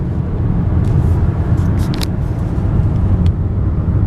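A 2015 Hyundai Sonata hybrid cruises along, its four-cylinder engine and road noise forming a steady low cabin rumble, with a few faint high ticks and clicks over the top and no voices.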